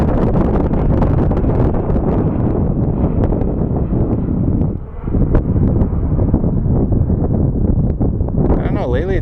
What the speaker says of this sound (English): Yeah, it's super windy, so I really don't have my wireless microphones.